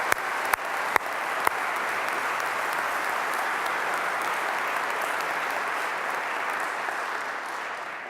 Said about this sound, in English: I think we should applaud.